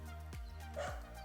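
A dog on a riverbank gives two quick yipping barks over a steady low hum, fairly close, with no talk.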